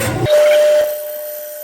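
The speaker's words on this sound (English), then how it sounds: "so we'll cut through the trim here" Car dashboard trim being cut during a fabrication job: a loud brief burst of rough noise gives way to a sustained high, steady whine that slowly fades.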